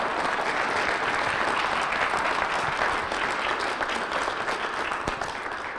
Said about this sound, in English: So let's give Devin a round of applause.